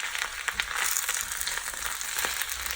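Spinach and onion sizzle steadily in a hot pan while being stirred, a dense continuous crackle of frying with faint scraping, close and even throughout, no voices.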